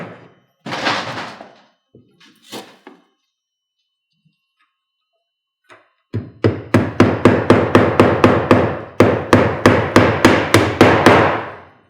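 Roofing nails are hammered into sheet metal valley flashing on an asphalt shingle roof. A couple of taps and scrapes come first, then after a pause a fast, loud run of about a dozen sharp, ringing hammer blows lands close up.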